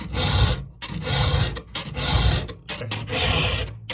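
A round file sharpening a chainsaw chain, with rhythmic rasping strokes of steel on steel, about five close, loud passes separated by brief pauses, and no voices.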